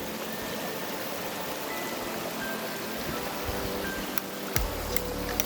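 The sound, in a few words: mountain spring water falling, partly frozen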